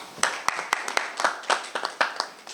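Scattered clapping at a Guinean festival announcement, applauding the Guinean press; a small audience claps in distinct, irregular hand strikes, fairly close and moderately loud.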